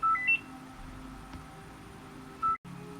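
A mobile phone's ring sounds as short electronic beeping tones, one burst at the start and another near the end, over a quiet room hum with no talking.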